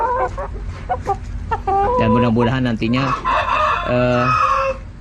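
Chickens in a pen crow and cluck loudly at close range, a rooster's drawn-out crows overlapping with busy clucking, while someone talks quietly underneath.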